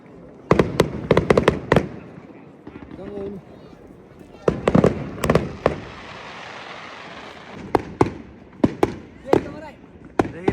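Fireworks and firecrackers burst at a New Year celebration by the sea, with sharp cracking pops in rapid clusters and scattered single bangs, some near and loud, over a steady background hiss and crowd murmur.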